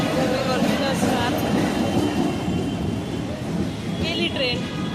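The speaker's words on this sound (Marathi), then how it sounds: "ट्रेन गेली." A Mumbai local train runs through a suburban station on the Dombivli–Badlapur line, a close, loud rumble and rattle of carriages, with a brief wheel squeal near the end and people talking nearby.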